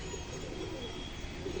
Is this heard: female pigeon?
yes